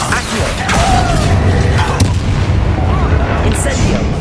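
Fire spell cast in the Hogwarts Legacy video game: a loud, sustained roaring whoosh of flames with booming low rumble and a few sharp bursts, filling the whole moment without pause.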